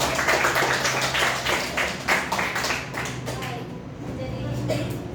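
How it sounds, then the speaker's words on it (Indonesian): A classroom of students claps together, brisk rhythmic applause that is loud at first and then thins out and fades, with a voice talking over the tail end. "Kita berikan tepuk tangan dulu"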